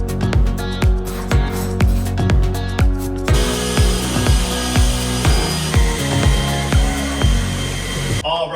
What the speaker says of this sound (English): That water stood no chance against my Works leaf blower right here with the brushless motor.